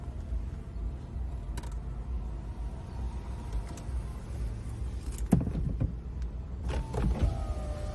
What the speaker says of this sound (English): Using our button just above, we can connect our convertible roof.